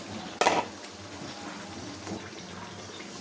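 Chunks of taro tipped into a pan of cooked spices land with a sharp, brief clatter and sizzle, followed by quieter scraping and stirring against the metal pan.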